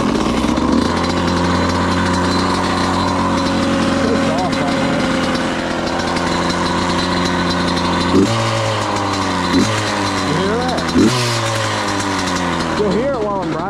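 A Suzuki RM85 dirt bike engine idles steadily close by, then gets blipped into a few sharp revs near the end, with a voice talking over it.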